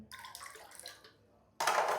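Tap water gushes suddenly into a glass vessel, filling it about halfway: a loud, close rush of running water that starts abruptly after a quieter stretch of faint splashing, with no talking.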